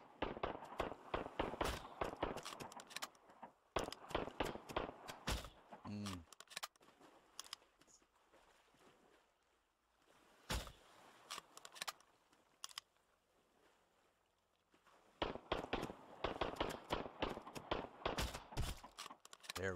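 Gunshots in the video game Sunken Land: dense bursts of sharp, loud cracks in rapid succession at the start and end, separated by a quieter stretch with a few isolated shots and some talk.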